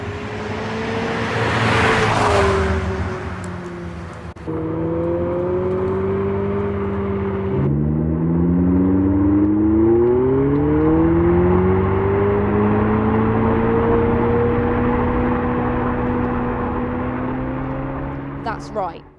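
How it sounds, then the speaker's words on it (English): An electric Abarth 500e's artificial engine-like exhaust note drones and rises in pitch as if revving, a synthetic combustion growl swelling and holding steady, loud and near. "they fitted this EV with a button that imitates the combustion car"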